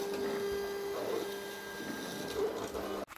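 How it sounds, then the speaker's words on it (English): Three craft cutting machines run at the same time, giving a steady mechanical whir with a sustained tonal whine and shifting motor pitches, then a sudden clunk as the sound cuts off near the end. "now you have all three machines running for you at the same time. The noise is a bit much"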